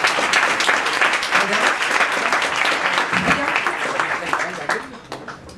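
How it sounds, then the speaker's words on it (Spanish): A pub audience in Madrid applauds a volunteer at a magic show with dense, lively clapping that stays loud throughout, with a voice faintly audible underneath before it tapers slightly at the end. "pues un aplauso para ella."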